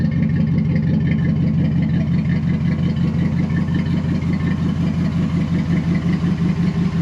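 A 2004 Ram pickup with a leaking exhaust idles up close, a loud, steady low rumble with rapid rhythmic pulsing and a faint ticking clatter, running evenly for about seven seconds with no talk.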